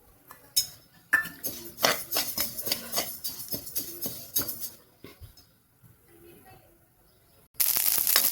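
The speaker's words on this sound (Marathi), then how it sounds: "आपला जवस पण भाजत आला आहे." Flaxseed dry-roasting in a pan gives off rapid scraping and clinking of a utensil against metal, close and irregular, fading out before a sudden loud hiss at the end.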